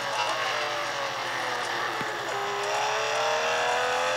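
A Lamborghini Centenario engine roars in a racing video game, holding a steady high whine along a straight before the pitch sweeps and drops under braking, close and loud throughout.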